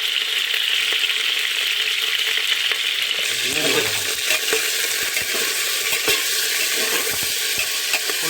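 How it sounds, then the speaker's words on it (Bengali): Cauliflower and potato fry in oil in a pan for khichuri, a loud continuous sizzle broken by scraping stirs and a brief bubbling surge, all close and without talk. "ফুলকপিটা আর আলুটা যখন হালকা লাল লাল করে ভাজা হয়ে যাবে"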